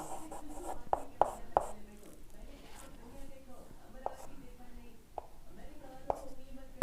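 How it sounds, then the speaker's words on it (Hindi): Marker or chalk writing on a classroom board during a grammar lesson, with short squeaky taps and strokes in irregular bursts under a teacher's speech. "अभी जैसे मैं लिख देता हूँ"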